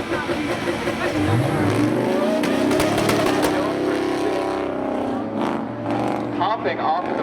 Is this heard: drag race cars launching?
yes